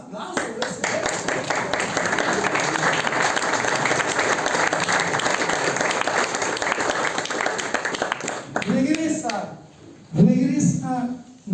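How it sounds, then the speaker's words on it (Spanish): An audience at a book presentation applauds after a poem verse, with sustained loud clapping for around eight seconds before it dies away, followed by a voice speaking. "no merece un aplauso de ese verso"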